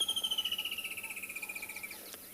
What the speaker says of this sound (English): Hear the woodland kingfisher.